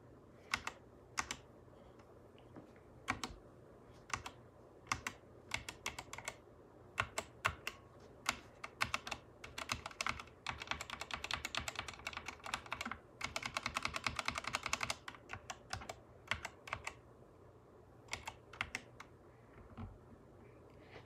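Fast, crisp clicking of someone typing on an SK61 60 percent mechanical keyboard, keys struck close up in uneven bursts with short pauses and a denser flurry near the middle.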